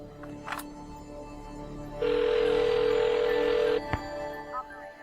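A phone call rings in the video game Memento Mori 2: a steady electronic ring tone holds for about two seconds mid-clip over quiet background game sound, with no talk.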